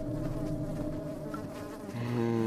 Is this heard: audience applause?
no